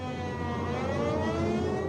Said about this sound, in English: suddenly the warning sirens sound.